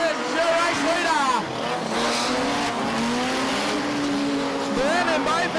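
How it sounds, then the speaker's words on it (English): Modified production race cars roar continuously around the dirt oval at Maryborough Speedway, engines revving and rising in pitch as they pass, with a commentator talking over the loud, steady racing noise. "Modified production racing at its best"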